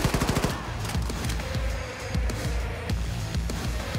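Rapid submachine gun fire in the shooter game Wolfenstein 2: loud, close bursts of rattling automatic shots, a sharp opening volley followed by sustained staccato firing with brief gaps throughout.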